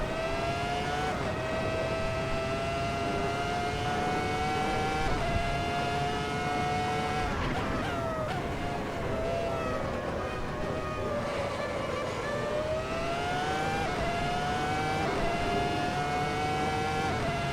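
Ferrari F2004 Formula 1 car in Assetto Corsa accelerates hard through the gears, a loud, close, high-pitched V10 scream that climbs, dips at each upshift and climbs again, with no voices.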